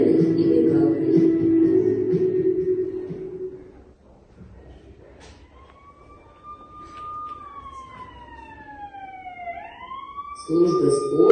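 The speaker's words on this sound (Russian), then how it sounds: "полицейские ездят в специальной машине с сиреной и мигалкой" A police siren wails, its tone sweeping slowly up and down, after several seconds of low rumbling noise; it grows louder toward the end.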